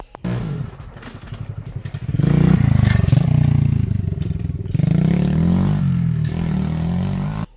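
A Bastos BS90 mini motorcycle, a small 90cc engine on a mini chassis, revs up loud and close, holding a buzzing drone with dips between throttle bursts and some clatter.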